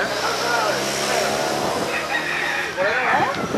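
A rooster crows amid a busy, noisy outdoor scene, with people talking nearby and traffic rumbling in the background.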